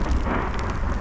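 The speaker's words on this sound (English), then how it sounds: "Man, this storm came in crazy. Wind, hail, rain," Mountain storm near Fremont Crossing, with wind, hail and rain roaring loud and steady throughout, dense drumming on the surface with no breaks.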